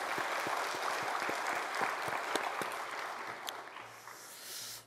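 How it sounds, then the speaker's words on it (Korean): Applause from a Korean church congregation at a Sunday service, steady dense clapping across the room that thins and fades toward the end, with a brief murmur of voices at the close. "한 번 더 박수 한번 칩시다."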